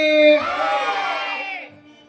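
A crowd at a devotional gathering for Veerabhadreshwara raises a loud, sustained chant of praise in unison, with many voices holding a tonal shout for over a second before fading into quiet.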